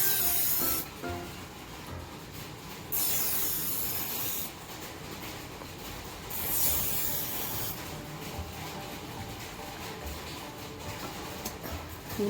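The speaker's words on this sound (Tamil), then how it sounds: "ஒரு 1/2 இன்ச்சுக்கு கட் பண்ணிவிட்டு இந்த மாதிரி அப்படியே கிழிச்சு" A saree edge is torn by hand after a small cut, producing several long, rough ripping hisses that come in separate strokes, close and fairly quiet.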